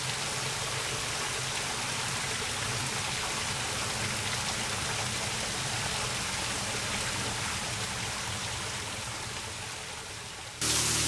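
Steady, dense rush of a waterfall pouring into a pool at Springwood Falls, a broadband roar holding constant and close for the whole stretch with no voices over it.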